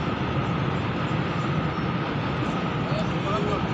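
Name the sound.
long freight train crossing a bridge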